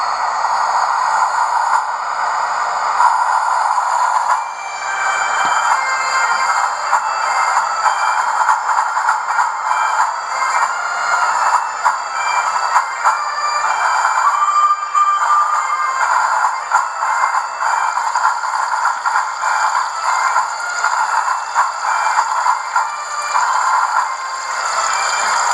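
The tune Scotland the Brave plays from the sound decoder of a model BR A3 class Flying Scotsman steam locomotive, a thin, tinny melody under a steady rattling, clattering mechanical background.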